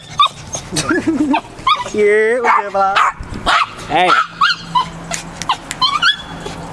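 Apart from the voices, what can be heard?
dog barking and whimpering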